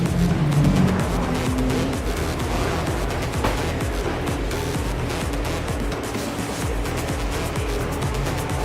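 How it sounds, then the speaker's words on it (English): Race cars with 3.6-liter turbocharged V6 engines at the 2015 Detroit Belle Isle Grand Prix, a loud, sustained engine roar with passing cars throughout and no clear pause. "turbocharged V6 engines"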